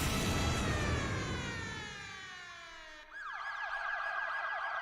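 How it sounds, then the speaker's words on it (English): Emergency siren sound effects for a song production, a wailing tone that sweeps downward and then switches to a fast, repeating high warble, loud and close with no voices. "So we've got some sirens"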